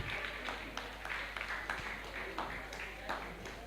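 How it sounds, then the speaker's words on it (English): Audience applause at a Rotary Youth Leadership Academy gathering, a steady crowd clapping at a fairly distant, soft level over a constant low hum, with voices faintly mixed in. "Please a round of applause for him once again."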